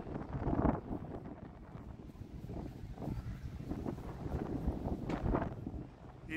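Gusty wind buffets the microphone at a hot rod show in Bowling Green, Kentucky, producing a constant low rumbling roar that swells and eases without letting up.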